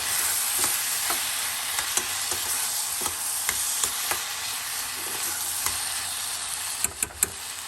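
Vegetables for gravy sautéing in a pan, giving a loud, continuous sizzle and fry with occasional clinks and scrapes from stirring.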